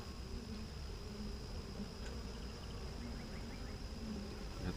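A faint, steady hum of many honeybees buzzing around a hive, a continuous soft drone with no voices.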